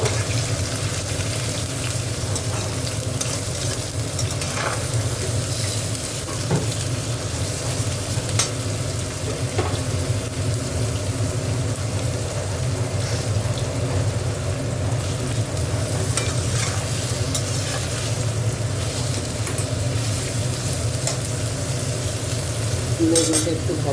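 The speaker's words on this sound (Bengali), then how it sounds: "বেগুনটা একটু ভাজা হোক।" Eggplant fries in hot oil in a pan while being stirred, a steady dense sizzle with occasional scraping and clinks, holding at an even loudness throughout and heard close up.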